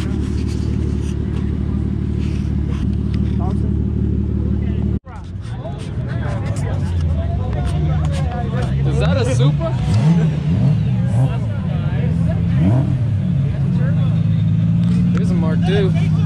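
A Nissan Skyline R33 GTS pulls out at a lively evening car meet, its engine droning steadily and swelling as it drives off, under constant crowd chatter and nearby voices.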